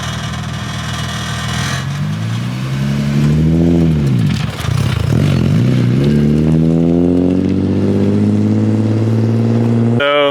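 A manual-transmission car's engine revs up and down as the driver tries first-gear shifts, the pitch climbing, dipping and climbing again in a loud, close, continuous drone.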